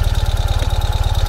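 A 2021 Ural cT motorcycle engine idles after starting, a loud, close, rapid pulsing thump with a steady even beat.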